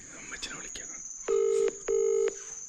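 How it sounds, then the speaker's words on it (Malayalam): A phone call's ringback tone sounds as two short paired beeps separated by a brief gap, clear against a quiet background with a faint high whine. "ഫോൺ റിങ് ചെയ്ത് വെച്ചേക്കുന്നുണ്ട്"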